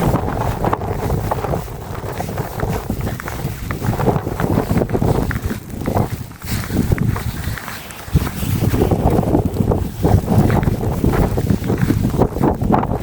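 Strong wind buffets the microphone outdoors during a snowy winter walk, a loud rough roar that surges and eases in gusts throughout, with no voices.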